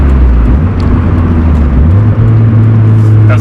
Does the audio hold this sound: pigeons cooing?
no